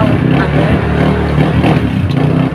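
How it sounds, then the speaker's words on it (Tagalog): A motorized tricycle engine starts up and runs close by at a sari-sari store, a steady loud rumbling drone with clattering mid-range engine noise filling the whole stretch. "may nagbukas ng tricycle. Maingay yan."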